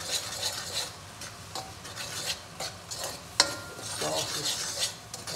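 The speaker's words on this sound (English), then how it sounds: "Give this a stir real quick." A crawfish seasoning mixture of ground dry ingredients is stirred in a pot, giving repeated close scraping and rubbing strokes with a few sharper clinks of the utensil against the pot.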